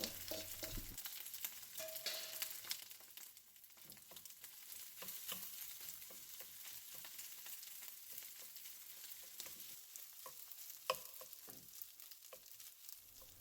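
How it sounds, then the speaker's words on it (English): An egg and rice mixture stir-fries in a preheated pan with about two tablespoons of oil, giving a quiet, steady sizzle broken by frequent scraping and stirring clicks. "Now I'm going to take my mixture over to a preheated pan with around 2 tablespoons of oil, and now I'm just going to stir fry this."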